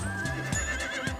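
Horses standing with a parked horse-drawn carriage give a loud, close whinny, a wavering high neigh held over about a second, with soft hoof clops and snorting pulses underneath.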